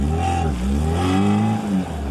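An off-road car engine revs hard and steadily while climbing a muddy hill, a loud, close, droning roar that rises and falls slightly in pitch without pause.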